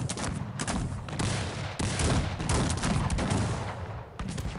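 Musket volleys in Cossacks 3 as musketeers trade fire, a dense, continuous crackle of overlapping shots with repeated louder bursts throughout, loud and close with no voices over it.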